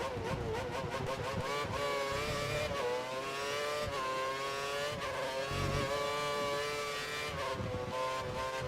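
Formula 1 race car engines in the F1 2013 racing game at the British GP, a continuous high-pitched whine with rising and falling revs as several cars run close together, loud and steady throughout with no talk.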